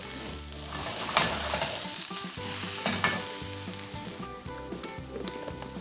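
Oil-coated vegetables fry in a pan with a steady crackling sizzle, stirred now and then with soft scraping knocks, close and continuous throughout.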